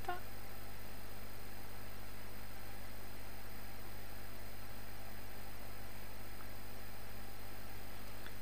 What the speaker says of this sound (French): vous entendez un petit peu de bruit, c'est mon ventilateur.